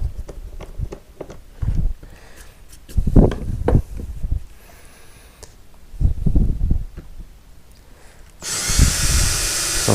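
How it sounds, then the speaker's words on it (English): A power drill whirs in short bursts, pre-drilling holes while building a fiberglass roof, with tool clatter and handling knocks between them, ending in a louder, rougher stretch of noise. "So I'll pre-drill the hole."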